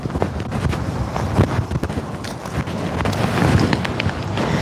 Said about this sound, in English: It's a little bit windy, but it's nice breeze